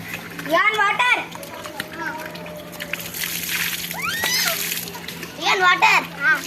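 Children splashing and sloshing water while playing at home, bursts of splatter rising and falling close by, mixed with kids' chatter and squeals throughout.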